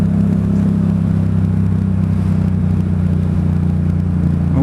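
Motorcycle engine running steadily while riding, a loud, continuous low drone with wind rumble and no pauses throughout.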